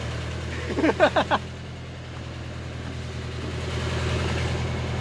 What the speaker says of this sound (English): we're gonna let this cooling system bleed off, just let it idle for a bit